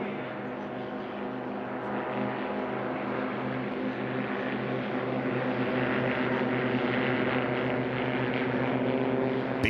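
A Super STOL aircraft's engine and propeller drone steadily and loudly during a drag race, with a continuous, unbroken roar throughout.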